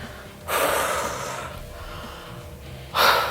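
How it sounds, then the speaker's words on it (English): Heavy gasping breaths from a man resting between sets of a back and biceps weight-lifting workout, two loud, breathy bursts with a quieter stretch of panting between them, close to the mic. "I am gasping a little bit, and I'm not even moving quickly."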